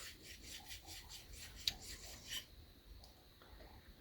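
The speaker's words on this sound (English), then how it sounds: "get in there with some steel wool and clean that out the best I can" Steel wool scrubs inside a part of a mid-1950s Wright & McGill Fre-Line Model 10-BC spincast reel, a close, rhythmic raspy rubbing in quick repeated strokes for about two and a half seconds, then quieter handling.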